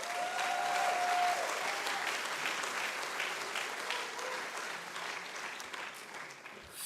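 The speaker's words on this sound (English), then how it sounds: "Please give them a round of applause." Sustained applause from a graduation ceremony audience, loud and dense at first, then slowly thinning, with faint voices and a brief tone early on.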